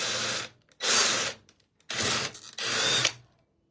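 Power drill boring through a metal mason jar lid, two long whining bursts of drilling separated by a short pause, close and fairly loud with no talk.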